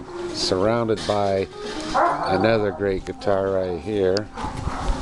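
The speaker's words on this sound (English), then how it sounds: "I wonder if you can hear my dog in the background" A dog barks and yips repeatedly in short bursts, loud and close, while someone talks over it.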